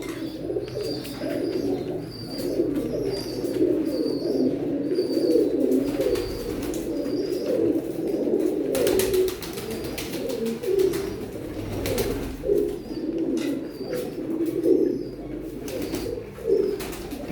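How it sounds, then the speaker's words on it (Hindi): Pigeons, the flock's father bird among them, coo in dense, overlapping low rolls at feeding time, steady and close, with light chirps and brief flutters mixed in. "ये डैडी कबूतर है माशाल्लाह, देखें।"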